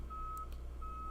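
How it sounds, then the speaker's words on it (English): A faint, distant snow removal vehicle's reversing beep repeats as a steady high electronic tone over low rumbling background noise. "If you can hear that beeping in the background, I am sorry, that is snow removal."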